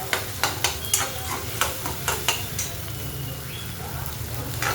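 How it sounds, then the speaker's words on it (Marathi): Finely chopped onion and tomato masala fries in oil, a steady close sizzle broken by rapid clinking scrapes of a spoon against the pan that fade into quieter frying. "छान असं परतून घ्यायचं, तेल सुटतो पूर्ण."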